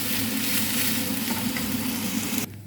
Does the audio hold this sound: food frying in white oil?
yes